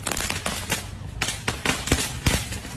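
Firecrackers pop and bang in quick, irregular bursts, loud and close, with crackling between the sharper blasts.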